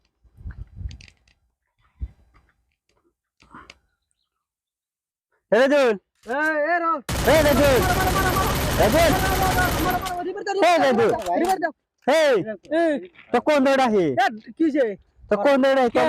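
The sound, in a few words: gunfire from the video game Free Fire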